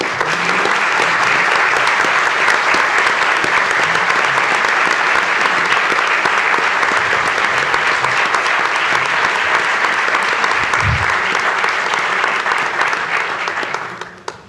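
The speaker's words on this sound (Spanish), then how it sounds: "El aplauso es para el colectivo que se juntó cada semana, jueves a jueves" An audience at a memorial tribute to Nibia Sabalsagaray on the 50th anniversary of her murder gives sustained, dense applause for about fourteen seconds, steady and loud throughout before tapering off at the end.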